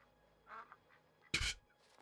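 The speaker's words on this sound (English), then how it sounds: "those are pretty messed up looking ducks" Video game ducks in Luigi's Mansion quacking outside a mansion: a brief soft call, then one loud, harsh quack burst, with faint calls trailing after.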